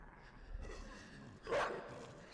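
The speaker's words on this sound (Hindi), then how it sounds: "हाँ कुत्ते हैं ना, मैं भाग नहीं सकती अभी." Dogs barking in the video game Inside, played on PS4, a short burst of barks rising over quiet game ambience near the end.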